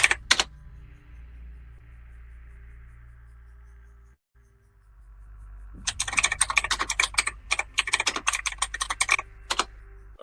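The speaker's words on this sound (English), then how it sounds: "we can hear you typing very loudly" Loud, rapid typing on a computer keyboard comes in about halfway through, a dense run of sharp key clacks after a quiet stretch with only low hum and a couple of brief clicks at the start.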